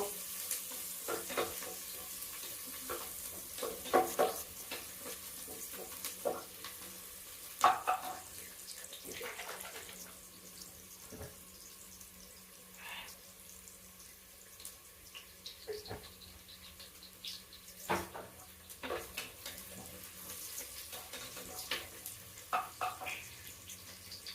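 Onion and vegetables sautéing in a frying pan in a home kitchen, a soft steady sizzle broken by repeated scraping stirs and clatters of the spoon against the pan, fairly close and quiet.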